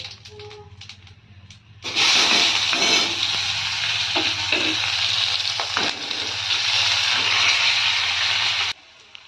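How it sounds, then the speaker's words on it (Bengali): Panch phoron spices hit hot oil in a home kitchen and burst into a loud, steady sizzle that runs for several seconds before cutting off abruptly. "এবার ফোড়নটা দিয়ে দেবো। এই যে হচ্ছে পাঁচ ফোড়ন।"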